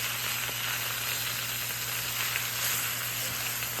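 Mushrooms and sausage on very low heat in a pan, a soft, even sizzle running steadily without pause.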